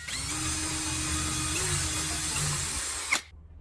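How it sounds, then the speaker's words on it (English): A power drill bores holes into a piece of wood, a steady high whine held for about three seconds before it stops abruptly, loud and close with no voices. "Drill 2 holes at those points."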